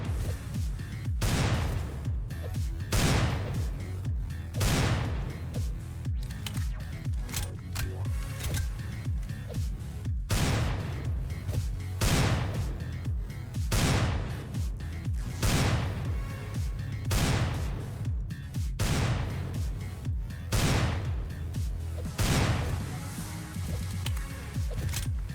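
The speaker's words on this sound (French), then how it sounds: "Avec les bruits de balles qui vont à fond." Rapid bullet fire from a killer robot in a video game, loud booming shots repeating in a steady rhythm every second or two over a dense, continuous rumbling bed of game noise.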